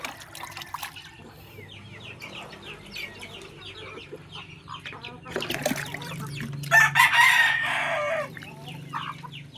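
Backyard chickens cluck and a rooster crows loudly near the end, with water splashing as drinkers are filled nearby.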